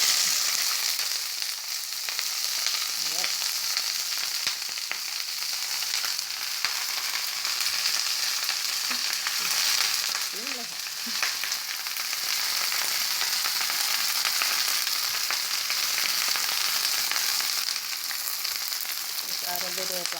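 Cabbage sizzles in hot oil in a pot, a continuous bright frying hiss with faint stirring clinks, steady and close throughout with no talk.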